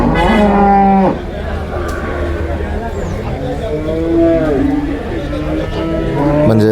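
Pet buffalo calves at Manjeri market let out repeated loud, close moos, with one long call at the start and more bellows through the rest, over faint crowd chatter.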